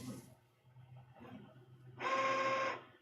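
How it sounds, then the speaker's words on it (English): A direct-to-garment t-shirt printer runs, picked up by a microphone inside the machine: quiet mechanical rumble and shuffling for two seconds, then a loud steady whirring burst with a tonal whine lasting under a second before cutting off. "We've also got a mic inside the printer so that you can actually hear the printer running."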